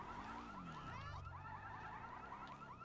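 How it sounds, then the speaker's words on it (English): Car alarm in the video game GTA V whoops in a fast repeating rising pattern, continuous and moderately distant, under a low engine drone. "That's a loud alarm."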